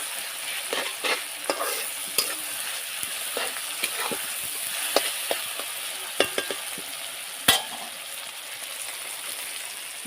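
Vegetables frying with ginger and garlic in a pan, a steady sizzle broken by repeated scraping and clinking stirs, close up with no talking.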